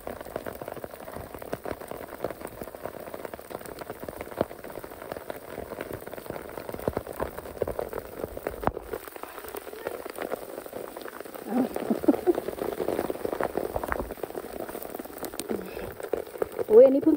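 Heavy rain falls outdoors during mushroom foraging, a continuous soft hiss of drops on surfaces, fairly faint and steady, swelling a little near the end, with people talking over it.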